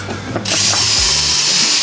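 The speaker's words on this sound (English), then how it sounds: "See, pre-drill, see?" A power drill whirs up to a sustained high whine while pre-drilling a hole during a woodworking build, close and loud after a brief clunk.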